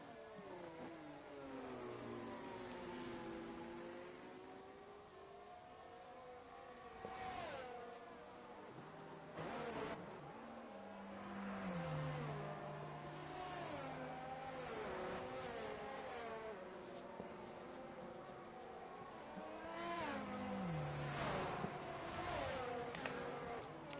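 Race cars in an F1 22 sprint race at the Japan round scream past with rising and falling engine pitch, several whooshing passes and gear-shift sweeps over a steady distant engine drone.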